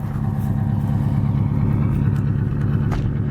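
A 1968 Ford engine with a flooding carburetor idles roughly nearby, its low, uneven throb steady throughout with irregular misses and no talk over it.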